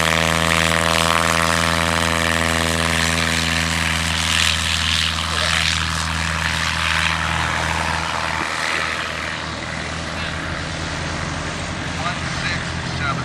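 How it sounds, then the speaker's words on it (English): A propeller airplane makes a short field takeoff at a New Holstein competition, its engine droning loud and steady throughout while an announcer talks over it. "his first takeoff at 7 feet."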